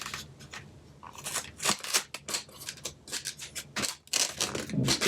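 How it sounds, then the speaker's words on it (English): Packing tape being peeled and torn off a Transformers FansToys FT-41 Sheridan toy box, coming in several short crackly rips and scrapes close up, with no talking. "So let's go ahead and get the tape off."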